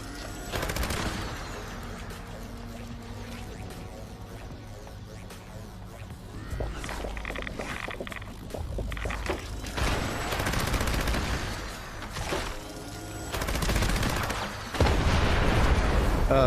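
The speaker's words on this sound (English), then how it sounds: "Try to shoot me with a shotgun." Shotgun fire rings out in the online game Fallout 76 as a steady, dense barrage of loud blasts and booms that overlap throughout, with no voices.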